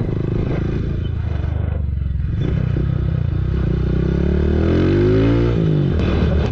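Honda Titan 160 motorcycle fitted with a 220cc piston kit, its engine running loud and close with a clattery drone that rises in pitch as it revs near the end.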